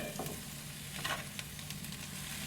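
Chicken noodles being tossed and mixed with two forks, giving soft repeated scraping and stirring sounds against a faint sizzling background, close and steady with no talking.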